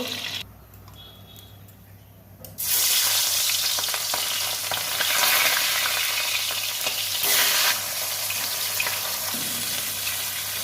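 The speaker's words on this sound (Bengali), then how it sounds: "সর্ষের তেল মাছের মাথা ভেজে নেব" Fish heads frying in mustard oil for a mung dal dish. A low murmur gives way to a loud, steady sizzle that fills the kitchen for most of the clip, with no one speaking.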